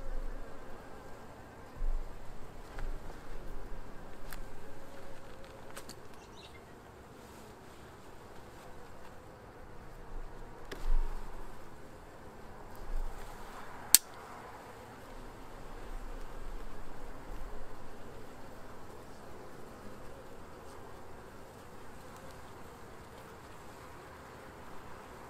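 Honey bees buzz around an open beehive while its frames are inspected, a faint continuous hum that swells and fades as bees pass close, with a few soft knocks and no voices.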